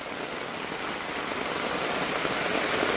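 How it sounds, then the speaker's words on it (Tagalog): Heavy rain pours down steadily in a dense, hissing wash, continuous and loud, with no voices. "sobrang lumalakas na yung ulan"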